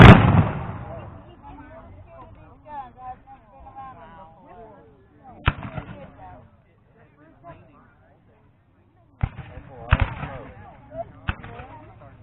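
Civil War reenactment muskets and cannon at Point Park boom out: one heavy blast opens, then scattered sharp reports crack out at a distance, with people talking nearby between the shots.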